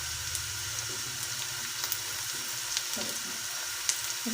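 Chopped green chillies fry lightly in a pan for an egg and peas curry, a soft, even sizzle with faint crackles and occasional spatula taps, fairly quiet and without voices.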